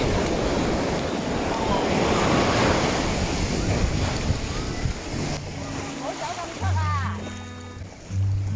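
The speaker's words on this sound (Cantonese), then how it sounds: "啲浪好勁啊！" Strong surf at Sangchai Beach in Phuket churns and crashes in a loud, continuous roar with wind buffeting the microphone, easing later as people talk and shout nearby.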